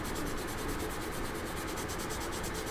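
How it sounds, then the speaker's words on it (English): A sanding sponge rubbed back and forth over the plastic intake part of a model F-15E Strike Eagle, a close, loud, rhythmic scratchy rasp with rapid regular strokes and no talking. "what's really nice about the sanding sponges is it just conform to the shape you need"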